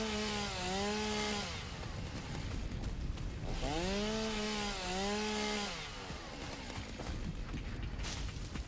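A chainsaw in the Satisfactory video game clears ground in two separate revving bursts, each rising and falling in pitch, over a constant hum of game background noise.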